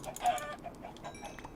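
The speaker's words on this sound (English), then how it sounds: "How do the chickens get out?" Chickens clucking in the Minecraft modpack Agrarian Skies, a short run of quick soft clucks close by, fairly quiet with no talk.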